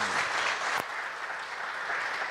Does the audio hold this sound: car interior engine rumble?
no